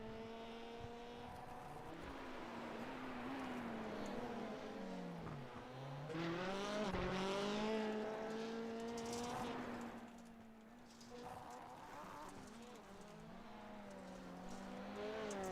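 Rallycross race cars in a racing video game rev hard and slide on a loose surface, engine pitch climbing and dropping through gear changes, with bursts of gravelly scrabbling as they pass close by.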